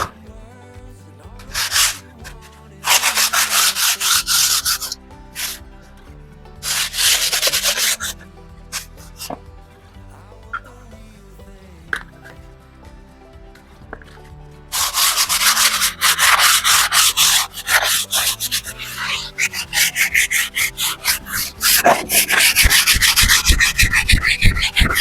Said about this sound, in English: So as I sand it, I'm feeling it with my hand to see if I'm getting the results I want.